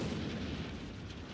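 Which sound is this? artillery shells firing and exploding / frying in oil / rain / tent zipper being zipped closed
artillery shells firing and exploding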